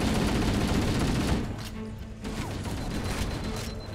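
Shotgun blasts in a video game, a heavy close report at the start followed by quieter scattered shots and mechanical clatter, with faint combat noise continuing.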